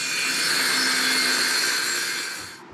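A circular saw cuts a strip of wood into drawer runners in a continuous loud whine lasting a few seconds. It cuts out abruptly at the end.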